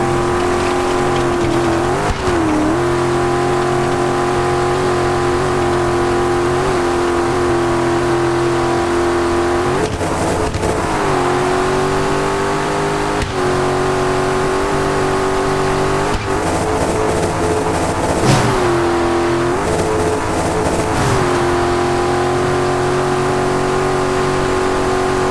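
A rally car engine in the off-road racing game Dakar 18 drones loudly and continuously, rising and dipping in repeated revs and gear changes over about twenty-five seconds, with no talk.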